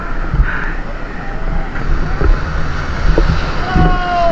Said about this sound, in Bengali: কি বড় ঢেউ দেখুন।